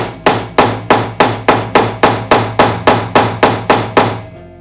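An ordinary hammer taps the end of a traditional rivet to flatten it, about fourteen even, sharp metallic strikes in a steady rhythm, close and loud with no talk.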